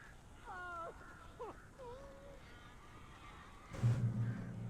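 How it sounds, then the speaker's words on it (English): Birds in the video game Alan Wake give sweeping, wavering cries and calls at a low level, followed by a louder burst of game noise near the end. "you didn't fucking tell me there were this many birds"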